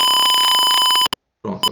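A simulated Arduino PIR motion-sensor alarm in Tinkercad sounds a loud steady electronic tone, then cuts off briefly before resuming.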